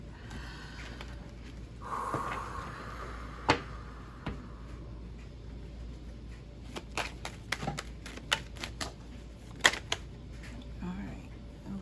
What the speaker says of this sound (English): Let's cut the cards and get in here.